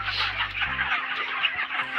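A flock of broiler chickens on a poultry farm clucks and chatters as a dense, continuous mass of calls, with a low mechanical hum underneath at the start.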